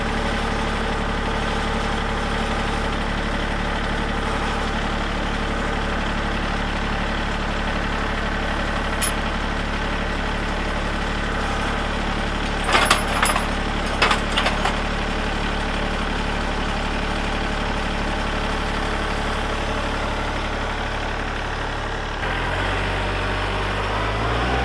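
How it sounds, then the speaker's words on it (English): A tractor engine idles steadily with a low, rhythmic diesel chug while running a log splitter, close and constant, with a few brief clanks partway through. "right now the tractor needs to run"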